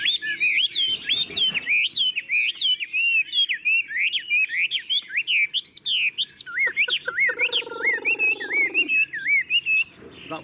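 A caged hwamei, a Chinese melodious laughingthrush, sings nonstop, with loud, close, rapid whistled phrases and varied trills that run continuously and are heard on their own.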